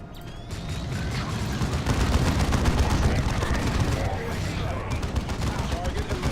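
Rapid, dense gunfire from an assault cannon in the strategy game Dawn of War II, with sustained chattering bursts and explosive battle noise overlapping for several seconds.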